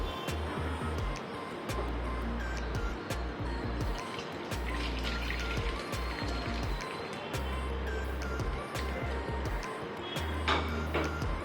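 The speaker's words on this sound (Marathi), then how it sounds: "आता आपल्याला हे चाळून घ्यायचं पाणी याच्यातलं वेगळं करून घ्यायचं आपल्याला" Water drips and trickles steadily as it is strained through cloth while making rasmalai, with soft splashing and irregular drops falling into a vessel close by.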